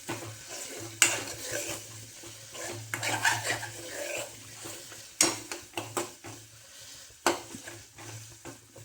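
Masala for a drumstick curry is stirred in hot oil in a metal pan, giving repeated sharp spoon scrapes and clanks over a soft, continuous sizzle, close and without speech.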